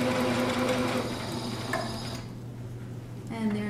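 Sewing machine backstitching a throw pillow seam sewn from a tablecloth, running with a steady close whir that eases off briefly, then picks up again, with a voice heard faintly over it.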